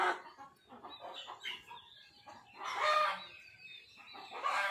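Rooster and hens clucking and squawking in a rowdy flurry near a laying hen settling into bran, calls overlapping in bursts with a louder crowing-like peak midway, no talking.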